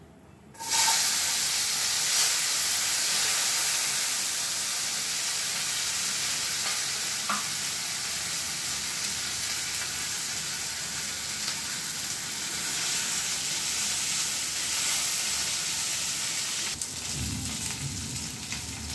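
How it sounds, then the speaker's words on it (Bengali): Small-cut potato pieces fry in hot oil in a wok, giving a loud, steady sizzle that holds almost unbroken from start to finish, with a brief change near the end as they are stirred. "আলুটা এবার আমি কড়াইতে দিয়ে দিচ্ছি।"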